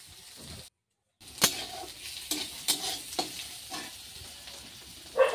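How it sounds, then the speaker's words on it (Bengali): Bitter gourd frying with onion and green chilli in a pan, a steady sizzle with sharp stirring scrapes at irregular intervals and a short silent gap near the start. "পেঁয়াজ আর কাঁচা লঙ্কা দিয়ে করলা ভাজা করছি"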